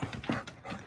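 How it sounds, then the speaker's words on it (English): A dog makes threatening growling, huffing noises in short bursts, close by and fairly quiet, with no talk over it. "You hear that dog threatening noises he's making?"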